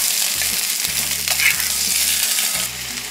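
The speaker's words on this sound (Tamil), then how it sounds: "இப்போ நல்லா நம்ம வதக்கிக்கலாம்" Chopped onions with salt sautéing in a pan for shahi paneer, a steady bright sizzle with intermittent soft stirring scrapes, close and clear without any talking.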